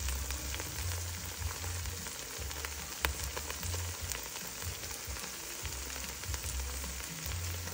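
Ginger sizzles steadily in a hot pan while beef broccoli with bell pepper is being cooked, a constant fine crackle with occasional sharper pops and no talking.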